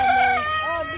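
A rooster crows at Calmsley Hill Farm, a loud, drawn-out call heard close by that fills about a second with little else around it.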